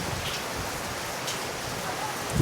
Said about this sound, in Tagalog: Butan tayo ng lakas ng ulan dito.